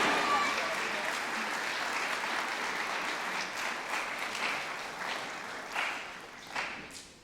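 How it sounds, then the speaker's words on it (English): A school concert audience applauds the concert band at a spring band concert, dense clapping that holds steady for several seconds before gradually thinning out toward the end, with faint voices in the crowd. "Can we get just one more round of applause for the concert band?"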